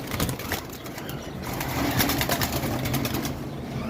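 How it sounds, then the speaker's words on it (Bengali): Budgerigars, cockatiels and conures in cages flapping their wings in restless rustling bursts, with soft cooing throughout and a steady background hum. "আসলে পাখিগুলো একটু ভয় পাচ্ছে দাপড়া দাপড়ি করতেছে"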